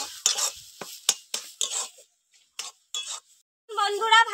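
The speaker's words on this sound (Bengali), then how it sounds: "এবার ভালো করে নেড়ে চেড়ে শাকটাকে" Taro leaves stir-fried in a pan over a clay stove: short, close scraping and rustling strokes of a spatula in bursts with brief pauses, and a voice is heard briefly at the end.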